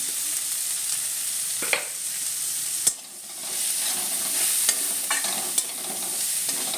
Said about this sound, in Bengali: যাতে পুড়ে না যায়, নাড়াচাড়ার মধ্যে রাখতে হবে।